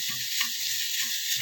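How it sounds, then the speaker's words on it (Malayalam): Chopped onions sauté with masala powder in a hot pan, giving a steady bright sizzle with soft, regular stirring thumps underneath and no talking. "നമുക്കിതൊന്ന് വഴറ്റിയെടുക്കാം."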